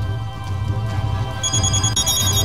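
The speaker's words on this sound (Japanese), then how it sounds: "失礼、僕の携帯だ。" Mobile phone ringtone in Hyperdimension Neptunia Re:Birth 2, a bright electronic tone that enters midway over a steady low game music bed and keeps sounding to the end.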